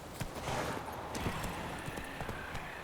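Horse hooves in The Witcher 3: Wild Hunt clip-clop in a quick, steady rhythm over a soft background hiss, faint and moderately distant.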